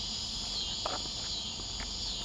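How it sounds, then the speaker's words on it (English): Eastern scissor grinder cicadas buzz in a constant high, shimmering drone that is steady and moderately loud, with a couple of faint soft rustles briefly beneath it. "I can't hear anything but the scissor grinders."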